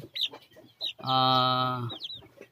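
Caged Rhode Island-cross chickens on a poultry farm cluck nearby, short clucks around one long, loud drawn-out squawk, with someone talking intermittently between them.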